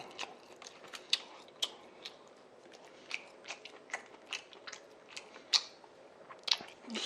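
Close-up chewing of spicy stir-fried pork (jeyuk-bokkeum) with pan-fried jeon, including enoki mushroom jeon. Soft wet chews are broken by repeated crisp crunchy bites at an irregular rhythm, with no talking.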